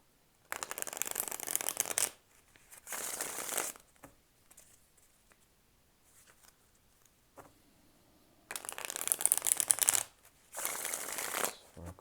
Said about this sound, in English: I'm going to shuffle up a bit more